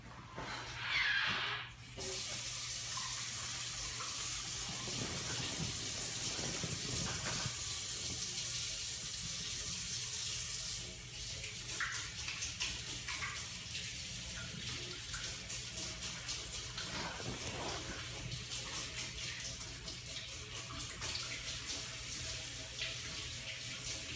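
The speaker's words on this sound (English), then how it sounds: "I'm going to wash my hands real quick and then I will be back to give you your meds" Tap water runs steadily into a sink as hands are washed, a constant close splashing hiss that shifts slightly partway through, with no talking.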